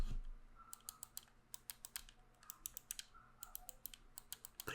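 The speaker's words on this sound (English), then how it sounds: "This is like the clickiest button sounds I ever heard from a game controller." Clicky buttons on a game controller pressed in quick bursts, sharp close taps like a computer mouse, in irregular clusters with brief pauses between, quiet and alone without talking.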